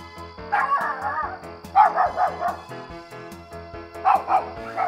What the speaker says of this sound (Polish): Zatrzymał go jakiś pies.